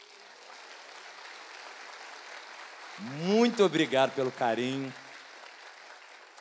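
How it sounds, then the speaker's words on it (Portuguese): Congregation applause at a Pentecost Sunday evening church service, a soft wash of clapping that continues quietly beneath a man's brief spoken thanks. "Você pode dar uma salva de palmas ao Senhor por ele, gente?"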